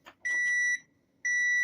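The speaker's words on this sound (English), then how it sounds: "excuse me while I go turn the timer off" Kitchen timer beeping during fruit dehydrating, two sharp high-pitched electronic beeps with a gap between them, clear and near, after a few faint clicks.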